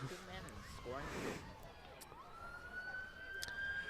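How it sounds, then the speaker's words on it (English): An ambulance siren wails steadily in the distance, rising and holding a high tone, beneath crowd noise and someone talking at a high school baseball game at James Memorial Field. "I hear a police car. Oh, ambulance. Ambulance."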